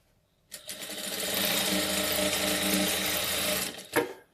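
A sewing machine runs a continuous stitching burst over the gathered fabric of a doll dress, a fast even whir lasting about three seconds before stopping, with a brief clunk at the end.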